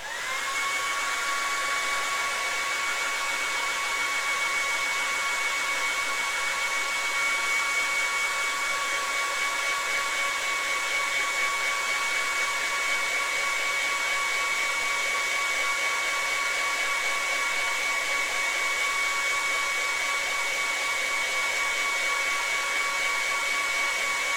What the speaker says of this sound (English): a bit more of a blast from my hairdryer